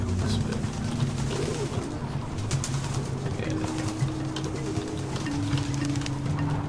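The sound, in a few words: pigeons cooing in video game Antichamber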